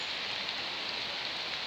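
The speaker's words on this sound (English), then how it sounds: "Hear that rain?" Steady rain falls outdoors in a constant, even hiss of drops, heard close and unbroken with no voices.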